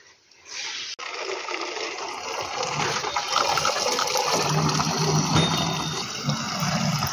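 Water gushes steadily from a tap into a container, starting after a brief quiet moment and a sharp click, then running loudly and continuously as the vessel fills, with no talk.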